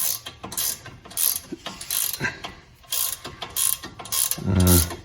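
A ratcheting hand tool clicks loudly and rapidly in repeated bursts while working on a CV joint of a Grand Caravan or VW Routan, close up, with metallic mechanical rattles between strokes.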